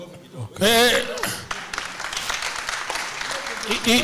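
Audience applause at a Nairobi panel discussion on odious debt, a dense wash of clapping filling most of the clip after a brief burst of voices, steady and moderately loud with speech mixed in.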